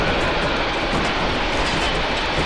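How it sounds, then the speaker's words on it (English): A train passes in the 1965 film For a Few Dollars More, a loud, steady rolling rumble filling the whole clip with no voices over it. "he was right about one thing, which is the train passing through"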